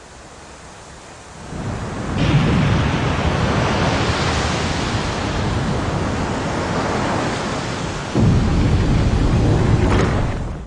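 A waterfall in a Jill Valentine video game rushes as a steady, loud broadband roar that swells after a quiet start and surges again near the end, with no voices.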